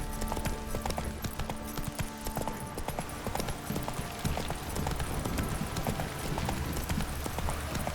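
Horse hooves clip-clop steadily in The Witcher 3 video game, a continuous rhythmic gait over a bed of game music and ambience, with no talking over it.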